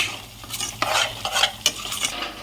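Coriander rice mixture being sautéed and stirred in a pan, with repeated scraping stirs over a soft sizzle, close and clear, no talking.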